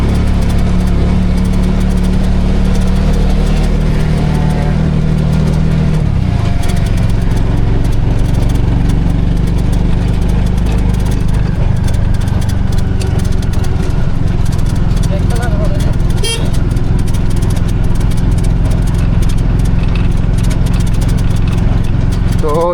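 A Piaggio Ape City auto-rickshaw running in petrol mode at about 35 to 40 km/h in third gear gives a loud, steady engine drone throughout, with a voice talking over it.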